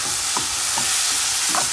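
Alkaline veggie stir fry with coconut nectar is stirred in a hot pan: a steady, close sizzle with a few soft scrapes of the utensil.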